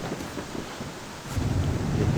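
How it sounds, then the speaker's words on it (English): Steady rain with low rumbling thunder in the farming video game Farmer's Life, a continuous wash of noise that swells louder in the second half, with no talk over it. "it is still raining outside"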